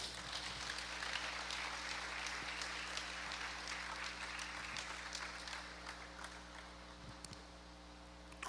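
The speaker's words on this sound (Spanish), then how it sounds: "Vamos a darle un aplauso al Señor." A church congregation claps together in faint, sustained applause, heard over a low steady hum.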